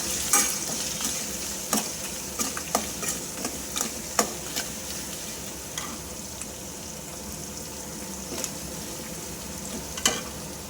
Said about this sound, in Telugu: ఇలా వెల్లుల్లి కొంచెం కచ్చాపిచ్చగా దంచుకొని పోపు వేసుకోవాలి.